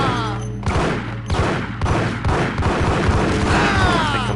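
Loud, close shotgun blasts in the Max Payne game, several heavy booms in quick irregular succession with sharp onsets and ringing tails, amid other combat noise.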